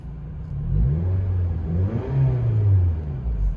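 A Scion tC's engine revs up close and loud, its rising and falling drone sustained and steady with no talking over it.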